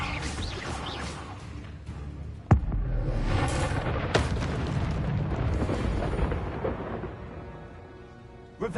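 An Incendio fire spell cast in a Hogwarts video game produces a roaring, explosive burst of flame with sharp cracks, the first and loudest near the start and a second shortly after, then a sustained rumble that fades.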